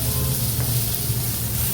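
Curry leaves dropped into a hot pan of chillies, garlic and ginger for a Kerala-style mutton curry, giving a brief, steady close sizzle and hiss with no talking.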